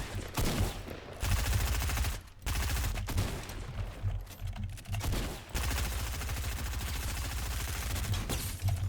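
Rapid gunfire from a Fortnite Chapter 2 match, loud and dense bursts of shots that are close, with brief pauses and then steady firing.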